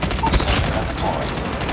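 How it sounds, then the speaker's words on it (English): Rapid automatic gunfire from a deployed sentry gun in the mobile shooter Call of Duty Mobile, a dense continuous burst of shots filling the clip at steady loudness with faint game voice beneath. "Sentry gun deployed."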